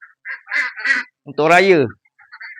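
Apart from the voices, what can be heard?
ducks quacking before feeding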